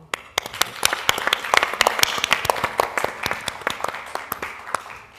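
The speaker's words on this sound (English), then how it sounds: "please join me to give a big round of applause for Dr. Krishnapong Kiratikon." Audience applause at a conference plenary session, a dense crowd of claps with sharp individual hand strikes standing out, swelling and then thinning toward the end, with no talk over it.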